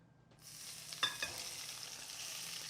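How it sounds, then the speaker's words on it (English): Hot oil poured onto eggs and potatoes bursts into a sizzle that starts after a brief quiet moment, with a crackling flare and then a steady frying hiss that continues to the end. "And we're gonna add our hot oil. Wait for the sizzle."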